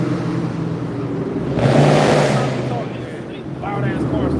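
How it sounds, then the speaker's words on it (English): Loud cars roar past on a street near a red light, a broadband surge swelling midway and fading, with traffic noise continuing underneath. "Loud ass cars."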